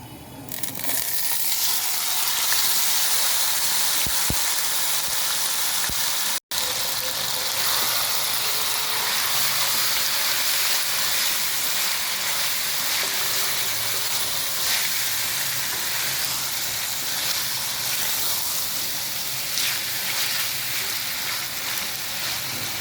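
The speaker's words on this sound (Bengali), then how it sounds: "এখন দিয়ে দিচ্ছি ম্যারিনেট করা মাংস।" Marinated beef hitting a little hot oil in a wok, a loud, continuous sizzle and hiss that holds steady throughout with only a brief break.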